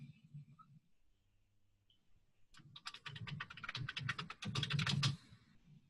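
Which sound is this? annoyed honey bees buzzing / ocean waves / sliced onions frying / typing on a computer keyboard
typing on a computer keyboard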